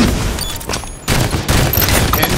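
Gunfire in Halo 5 multiplayer, a dense burst of rapid shots that fills the clip with a short lull midway before the firing resumes loudly.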